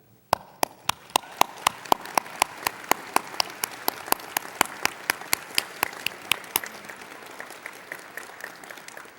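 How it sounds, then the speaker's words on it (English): A university winter commencement audience applauds the faculty: sharp individual claps ring out in a loose, regular rhythm and thicken into a broad wash of crowd clapping that carries on, then fades slightly near the end. "Graduates, please join me in applauding your faculty."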